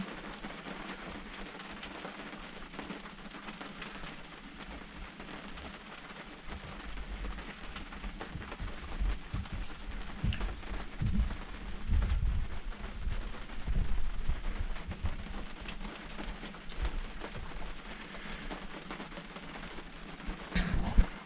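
Rain falls steadily on a sailboat tied up at a dock, a continuous close patter of drops on the deck and rigging that swells and eases over time.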